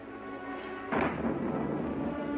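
Thunder in stormy weather, a sudden loud rumbling crack that lingers as a broad, heavy roll over a low steady background.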